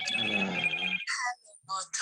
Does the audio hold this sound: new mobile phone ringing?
yes